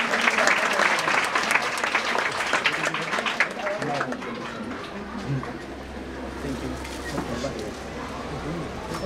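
Audience applause welcoming an honoured guest at a Zilla Parishad school ceremony in Kelavane, Raigad, where free school bags are handed out; dense clapping is loud for the first few seconds, then thins and fades under a hum and murmuring.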